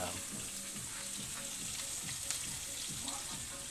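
Onion and ginger frying in a pan, a steady close crackling sizzle with faint stirring scrapes throughout, fairly quiet and without talk.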